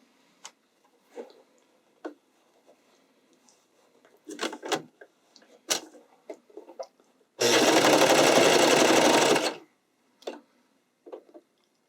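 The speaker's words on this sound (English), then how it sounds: "Now you're just going to sew around that seam." Sewing machine stitching a seam on a spandex sleeve, one loud steady whirring run of about two seconds, with scattered clicks and handling taps before and after.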